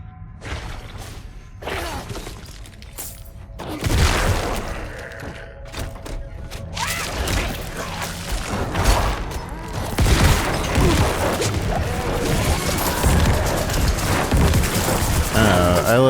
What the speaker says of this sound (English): I like this explosion feeling more than I like the other corpse explosion we were using.